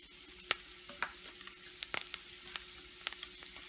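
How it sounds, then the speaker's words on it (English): Cashews and raisins sauté in a pan for beetroot halwa, giving a faint sizzle broken by several sharp clicks and scrapes of stirring, fairly quiet and with no voices. "And also add cashews. Sauté it well until light golden brown color."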